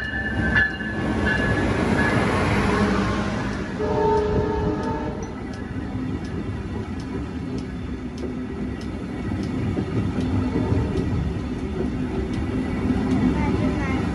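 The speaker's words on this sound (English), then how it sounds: "this is the Montreal-bound train that passes through just before our train to Ottawa" A Montreal-bound passenger train rumbles past near Casselman, Ontario, with a steady roar and clattering wheels, loud at first and then settling into a continuous rolling noise.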